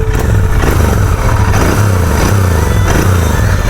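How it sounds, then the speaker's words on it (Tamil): Royal Enfield Interceptor 650 motorcycle engine running loud and close, with repeated throttle blips rising and falling in rhythmic bursts over a steady low rumble, no talking. "த்ராடல் கொடுத்து பார்க்கலாமா?"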